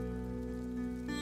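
Rain falls in a steady wash under a sustained tonal drone, an even, unbroken hiss that brightens slightly near the end.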